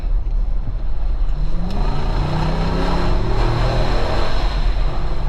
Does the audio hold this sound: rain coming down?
no